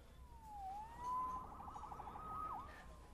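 Police siren wailing in the Spider-Man video game, a faint, distant rising and falling tone over low background rumble, with no talk.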